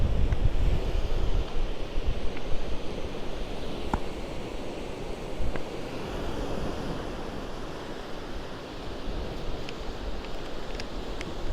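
Strong, continuous wind roars and buffets the microphone throughout at a Hawaii beach, with a low rushing surf beneath it and no talking.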